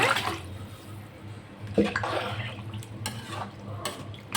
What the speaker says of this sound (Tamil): தண்ணி ஊற்றிக்கலாங்க.